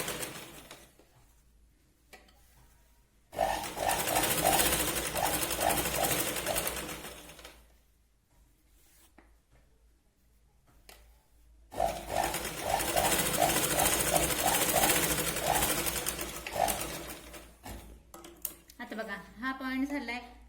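A sewing machine stitches a katori blouse in two long, loud, rattling bursts separated by quiet pauses, with faint clicks and handling noise in between.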